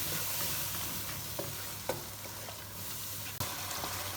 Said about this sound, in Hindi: और यहाँ हमने मसाले की अच्छी तरह से भुनाई करनी है।